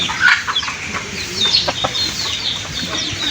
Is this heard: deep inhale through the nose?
no